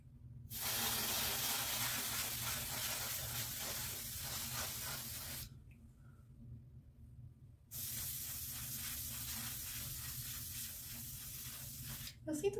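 L'Oréal pink hair color spray hisses out of its can in two long, steady bursts of about five seconds each, separated by a short pause, loud and close with no talking.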